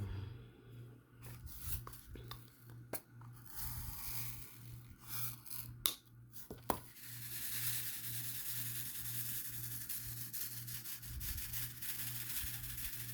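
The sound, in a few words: diamond painting drills rolling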